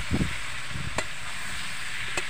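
Young jackfruit, seasoned with salt and turmeric, frying in a pan gives a constant soft sizzling hiss, with a couple of low stirring bumps early on and two sharp utensil taps.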